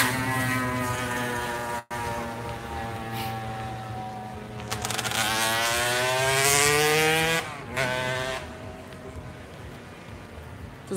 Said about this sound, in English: Doesn't matter where you go in Spain, there's motorbikes.